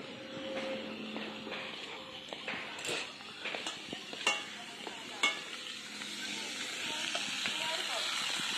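Potatoes fry in a hot pan with a steady sizzle, broken by sharp scrapes and clinks of a spatula stirring against the metal, close and moderately loud, while a faint voice murmurs in the background.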